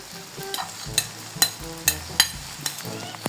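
Fried potatoes and beef sizzle in a hot pan while a utensil scrapes and clinks against the metal in rapid repeated strokes, close and fairly loud.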